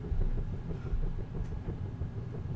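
A train in the Holiday Star video game rumbles low and steady with faint rhythmic clacks, a continuous heavy drone throughout and no voices.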